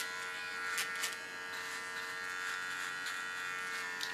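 A small electric hair clipper buzzes steadily while trimming a side beard contour, a close, faint, continuous hum with a few brief scratchy strokes against the hair; no one speaks.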